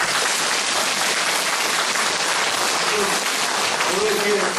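An audience applauds at a town-hall report meeting, producing steady, dense clapping throughout, loud and close, with a voice speaking faintly beneath it near the end.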